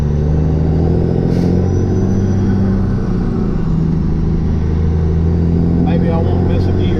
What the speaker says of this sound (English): let you guys get to hear this mighty B model in this truck